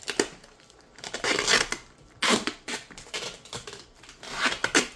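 Tape being torn from the roll and wrapped around a homemade roman candle minigun, a series of close, sharp ripping and crinkling bursts in an uneven rhythm with brief quiet gaps between pulls.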